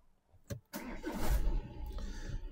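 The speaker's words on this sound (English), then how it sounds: "start the engine" An Audi Q5 diesel engine cranks briefly, then catches and settles into a steady running rumble, close by.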